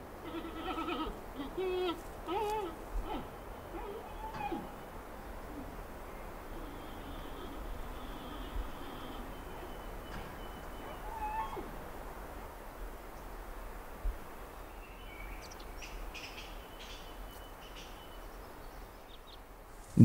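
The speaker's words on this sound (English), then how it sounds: "the sound of loud bleating and chirping raises hopes of a chance to get close enough to" Wild giant pandas bleating and chirping in a mountain forest, goat-like calls rising over steady ambient noise at moderate distance, with faint bird-like chirps scattered through.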